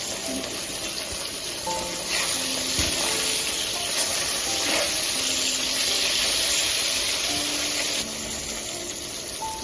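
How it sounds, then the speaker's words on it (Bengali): Tangra fish frying in oil in a pan, a loud continuous hissing sizzle that swells in the middle and eases slightly near the end, with no speech. "দুই পাশটা ভালো করে ভাজা হয়ে যায়"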